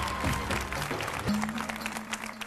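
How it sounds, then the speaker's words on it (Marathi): Studio audience clapping on a Marathi television game show, a short burst of applause with some background voices and a tonal sound underneath. "जोरदार टाळ्या दोघींसाठी."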